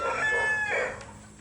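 A close rooster crow on a farm in Cuenca, Batangas fills most of the clip, trailing off into a few short clucks, with no talking.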